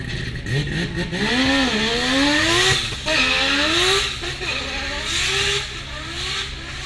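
A rotary-engined sports car revs hard at the Goodwood Festival of Speed, its loud buzzing engine climbing and dropping through repeated pitch sweeps as it passes close by.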